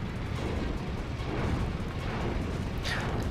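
Fire projectiles explode in Drakengard 2, making a dense, continuous rumble of booming blasts that rolls on steadily with no voices over it.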